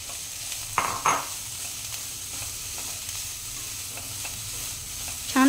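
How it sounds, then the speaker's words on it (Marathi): Finely chopped fenugreek leaves sauté in a pan with oil, ghee or butter, giving a steady soft sizzle with a couple of brief stirring scrapes near the start and a louder clink at the end. "आणि आता ह्याच्यामध्ये आपण बारीक चिरलेली मेथी"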